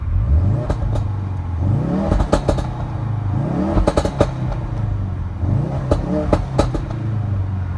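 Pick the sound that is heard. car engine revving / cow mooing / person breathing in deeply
car engine revving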